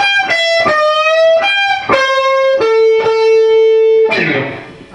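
Distorted electric guitar plays a melodic passage of sustained notes stepping downward, each attack sharp, ending on a noisy strummed chord; part of a song's interlude, loud and alone.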